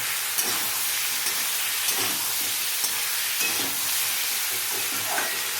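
Fish and bottle gourd cooking with turmeric in a pan, a constant frying sizzle with repeated soft scrapes and knocks of a spoon stirring at an unhurried pace.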